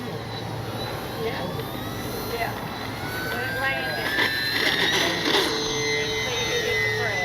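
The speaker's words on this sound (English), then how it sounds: "Nice scale takeoff." An FMS Cessna 182 RC model airplane's engine whines steadily and rises in pitch as it speeds up for takeoff, with a continuous buzzing drone and some outdoor background noise.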